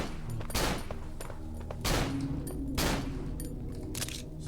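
Gunfire in the horror video game Cry of Fear, several loud bursts of shots spaced about a second apart over a droning, rumbling game backdrop.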